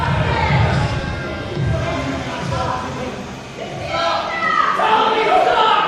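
Wrestling event crowd reacting to a tag team, a broad wash of murmuring, jeering voices that dips briefly then swells louder again, with talk over it.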